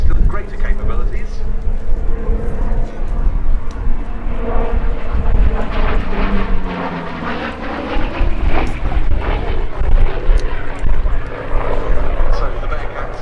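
A Grumman Bearcat propeller fighter flies at the Duxford summer airshow, its radial engine droning loudly and shifting in pitch as it passes, with a voice talking throughout.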